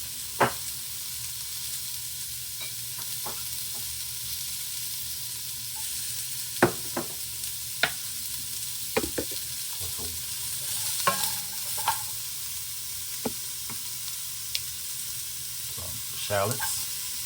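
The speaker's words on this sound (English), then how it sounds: "now we're gonna go in with the vegetables. Some carrots and celery." Carrots and celery sizzle in a hot pan for braised short ribs, a steady soft hiss broken by scattered clicks and scrapes of stirring.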